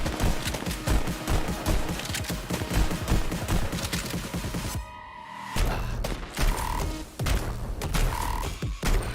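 Rapid gunshots in the Pistol Whip VR rhythm game crack out in dense, steady bursts, nearly continuous, with a short lull and then more scattered shots over a tonal backing.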